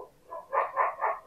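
A house guard dog barks three or four times in quick succession, the yaps moderately distant and unaccompanied by talk.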